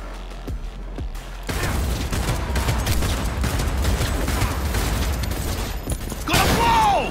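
Heavy gunfire in the video game Cyberpunk: a couple of isolated shots, then a loud sustained fusillade of overlapping rapid fire, with a rising whine and mechanical clatter near the end.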